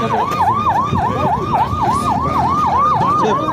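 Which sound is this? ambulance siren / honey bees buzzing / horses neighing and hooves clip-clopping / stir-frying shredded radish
ambulance siren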